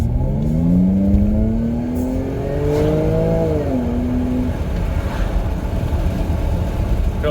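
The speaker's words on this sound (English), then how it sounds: "But the sound of the exhaust is so good." A Jaguar F-Pace S with a supercharged engine revs up under throttle, its exhaust note rising steadily in pitch, then dropping back to a lower drone as the SUV cruises on, loud and close.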